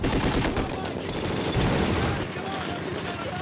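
Wartime gunfire from the Band of Brothers episode The Last Patrol, a dense, continuous crackle of rifle and machine-gun shots with rumbling, loud and close, under faint talk.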